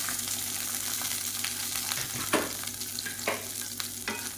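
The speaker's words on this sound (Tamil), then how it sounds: "இதில் வந்து ஒரு கைப்பிடி அளவுக்கு சின்ன வெங்காயம் கட் பண்ணதை சேர்த்துக்கலாம்" Loud continuous sizzling and crackling of chopped shallots frying in hot oil, with a few stirring scrapes, close and without talk.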